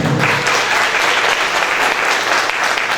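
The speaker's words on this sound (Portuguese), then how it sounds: "Palmas para o Fernando" Audience at a campaign-planning lecture applauding for a candidate, a dense, loud, unbroken wash of clapping from start to end.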